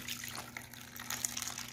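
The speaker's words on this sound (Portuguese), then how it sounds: "Agora a gente vai colocar uma xícara de água." Water poured from a cup into cake batter for a skillet cake, a soft continuous trickle and splash close by, fairly quiet against a steady low hum, with no talking.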